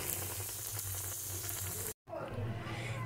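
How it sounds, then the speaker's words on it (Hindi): Samosas deep-frying in oil, giving a soft, even bubbling sizzle that cuts out abruptly for a moment and then resumes more quietly, close and low in level. "तो ये देखिए हमारे समोसे फ्राई हो रहे हैं"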